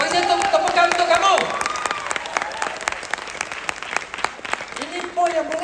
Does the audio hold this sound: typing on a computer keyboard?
no